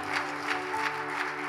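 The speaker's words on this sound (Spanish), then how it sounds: "¿Cuánto dan un fuerte aplauso al Señor?" Dense applause from a church congregation during a service, steady clapping filling the space over a faint hum, loud and continuous for a moment.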